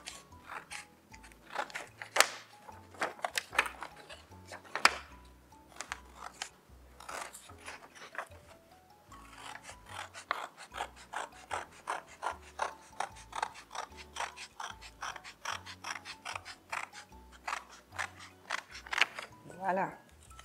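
Scissors cut through two stacked sheets of black construction paper with many close, crisp snips, some in quick runs and some spaced apart.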